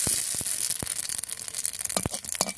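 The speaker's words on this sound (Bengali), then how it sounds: "রাঁধুনি আর শুকনো লঙ্কা ফোড়নে দিয়ে দেবো" Radhuni seeds and dried red chillies sizzle in hot oil as a tempering, a steady close crackling hiss with scattered sharp pops and spits.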